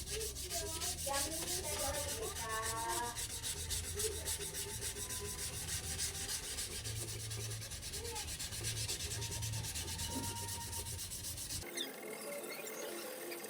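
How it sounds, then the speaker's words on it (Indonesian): Steady, continuous rasping of sandpaper scrubbed back and forth over a metal knife blade, close and fairly loud, running almost the whole time before ending abruptly near the close. "Gosokkan hamplas secara merata pada seluruh bagian bilah"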